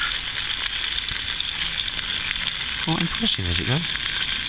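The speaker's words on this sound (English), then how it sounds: "I'm sure you can hear that. It's bubbling away." Pork, bread and mushrooms fry in a pan over a bush box stove, giving a loud, continuous sizzle and crackle, with someone speaking briefly near the end.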